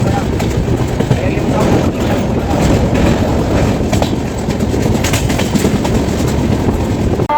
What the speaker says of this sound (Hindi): ये पुरानी दिल्ली का स्टेशन है।